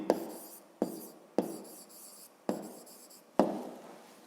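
Pen strokes on paper while solving a fifth-grade geometry exercise about rays, five separate scratchy writing bursts, each starting sharply and trailing off, close and quiet with no talking.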